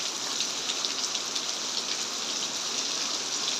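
Rain falls steadily outside a house, a dense, even hiss of drops on surfaces, moderately soft and unbroken, with no voices over it.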